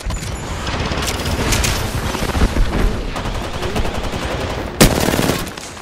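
Loud, rapid gunfire rattles in a shooter video game, with continuous automatic bursts and one sharp crack standing out near the end.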